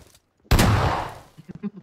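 A single loud, close gunshot blast from a battle royale shooter rings out after a moment of silence and decays over about a second, followed by faint muffled sounds.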